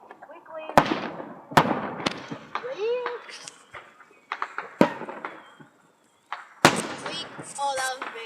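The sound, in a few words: fireworks exploding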